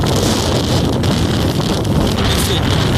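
A Lider 160 motor tractor with a 12-horsepower engine, working with a homemade roller, runs outdoors as a loud, steady drone. Heavy wind buffeting covers the microphone the whole time.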